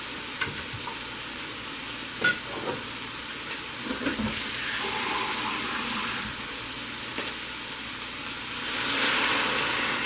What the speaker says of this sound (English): Just add a little water.